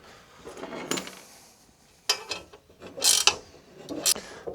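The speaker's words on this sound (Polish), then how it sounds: "Zostały mi jeszcze jakieś śrubki, to już dam kontrę chociaż z jedną." Bolts being tightened on side-case mounts of a QJ SRT 125 DX motorcycle: close, irregular bursts of metallic ratcheting clicks and tool clatter separated by short quiet gaps.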